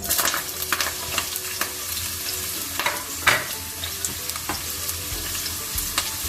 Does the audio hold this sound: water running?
no